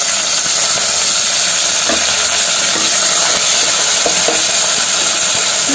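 Dried red chillies frying in hot oil with mustard seeds and urad dal give a loud, steady, dense sizzle, with a few faint stirring knocks scattered through and no voices.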